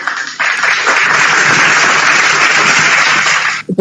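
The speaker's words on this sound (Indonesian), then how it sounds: "Tepuk tangan pula." A church congregation breaks into loud, dense applause that starts abruptly, holds steady for about three seconds and then cuts off sharply.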